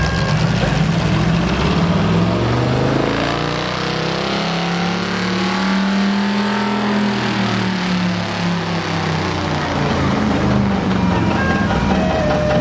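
A Massey tractor fitted with a 350 high-performance Chevy engine and automatic transmission rolls by in a town anniversary parade, a loud continuous engine drone with slow pitch swells, close and steady throughout.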